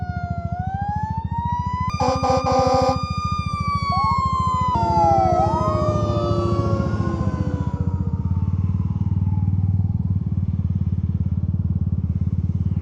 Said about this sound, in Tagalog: may ingay sigurado tong ambulansya na to